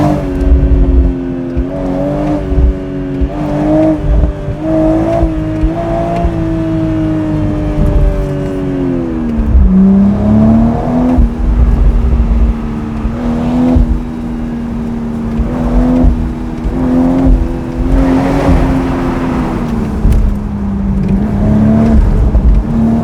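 BMW Z4 M40i sports car driven in manual mode with Sport Plus, its engine note rising and falling through rev changes and engine braking, loud and close with a steady exhaust drone throughout.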